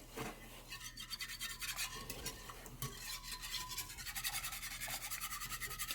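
Banana cream pie custard being whisked in a pot, a quiet rapid scratchy rhythm of the whisk against metal, continuous and close, with no talking.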